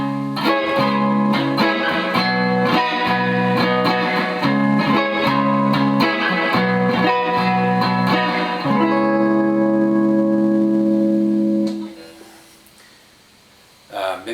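Electric guitar fitted with gold foil pickup clones, 250k pots and no capacitors, playing a rhythmic strummed pattern, then letting a final chord ring out and fade; loud and close, with no talking.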